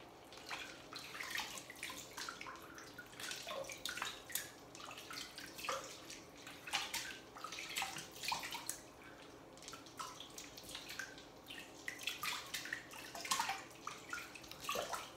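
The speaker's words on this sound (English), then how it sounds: "Swirl the water around a little bit." Cold water swirled and rinsed in a sink: faint, continuous splashing and trickling with scattered drips and small slaps of water, with no talking.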